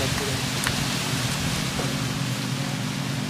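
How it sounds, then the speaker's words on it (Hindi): Rain pours steadily in a windy storm, a dense, loud, unbroken hiss with a low rumble beneath and no voices. "तो हवा तूफान चल रहा है"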